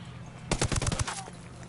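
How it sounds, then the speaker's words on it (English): A rapid burst of gunfire rattles out in the Ghost Recon video game, about half a second of closely spaced loud shots fading into a brief ringing tail. "That guy heard the shot, he's looking for the source."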